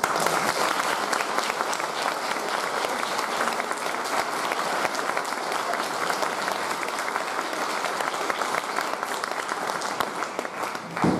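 Sustained audience applause at a spring wind band concert, welcoming a guest conductor; dense, steady clapping fills the hall for about eleven seconds without a break.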